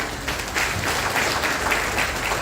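An audience claps at a health seminar about a Kangen water machine. The applause is a steady, fairly loud wash of many hands with no voices over it.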